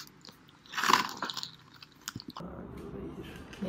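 Someone bites and chews lahmacun, Turkish flatbread topped with minced meat, with a crisp crunch up close followed by softer chewing, and a voice briefly in the background.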